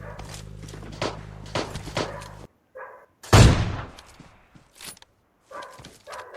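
Gunfire in a battle royale shooter game, with a burst of several sharp rapid shots, then a loud heavy blast, then scattered faint game sounds and footsteps.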